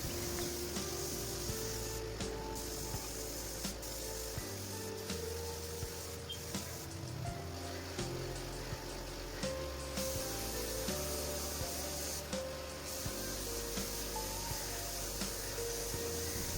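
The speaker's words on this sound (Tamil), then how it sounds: "நெக்ஸ்ட்டு ஃபுல்லாக இவனா வந்து மீடியமாக ஸ்ப்ரே பண்ணிக்கோங்க." Gold spray paint hisses from a can in a continuous, fairly faint rushing stream, broken by short pauses between passes while coating the surface.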